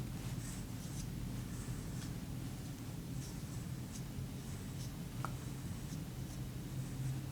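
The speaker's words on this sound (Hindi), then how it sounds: "आपने मार्कर यूज करना है और मार्कर से आपने ऐसे सब्जेक्टिव लिखना है" Marker tip writing on exam paper, a steady soft scratchy rasp with light strokes throughout, close and quiet over faint room hiss.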